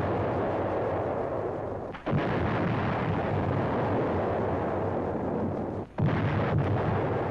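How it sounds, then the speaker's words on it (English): A 155 mm artillery gun shelling the Japanese stronghold on Munda Point during WWII, heard as a dense, continuous roar of heavy fire with two brief drops in level, loud and close throughout with no talk. "the 155 lumbers through the jungle, guided by Seabees to the place where it can do the most good, shelling the vital Japanese stronghold"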